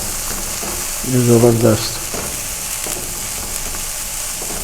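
Capsicum being stirred in a hot frying pan for masala fried rice, a constant sizzle with scraping stir sounds, and a short spoken remark partway through.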